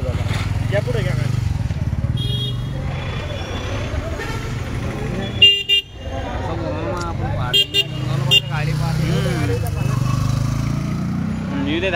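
A car pulls forward into a parking area at a temple town, its engine droning steadily while several short horn toots sound nearby and people talk and shout over the traffic.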